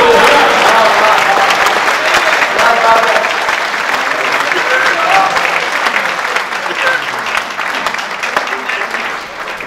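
An audience at a Rajasthani Mandal Hindi comic poetry gathering bursts into sustained applause, dense hand clapping that stays loud for most of the stretch before easing slightly.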